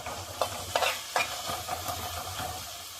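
Onion, garlic and celery sauté in a hot pan, a steady sizzle punctuated by repeated scraping strokes of a spoon stirring the vegetables, close and fairly loud.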